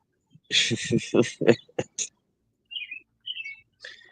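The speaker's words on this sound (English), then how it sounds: "Your birds are certainly active today. Yeah, they're tweeting away." A voice talks briefly, then pet birds chirp and tweet in short, high bursts, a few quick calls in the background.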